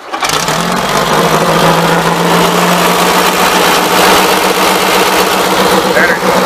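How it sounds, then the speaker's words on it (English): A four-speed golf cart engine runs steadily at close range, a loud continuous mid-pitched drone with a faint buzzing rhythm that holds a constant level throughout. "going to crank it up and ride it down the road"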